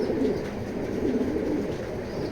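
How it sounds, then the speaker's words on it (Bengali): Racing pigeons coo close up in a continuous low rolling murmur, several birds overlapping against a steady loft background. "প্রত্যেকটাই খুব তেজি কবুতর এবং ভালো ডাকে"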